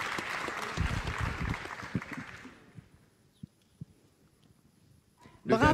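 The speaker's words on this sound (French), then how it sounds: "On va les applaudir s'il vous plaît très fort." A crowd applauds prize winners at a regional Talents des Cités awards event, a dense burst of clapping that fades out after a couple of seconds, leaving a quiet room with a few scattered knocks.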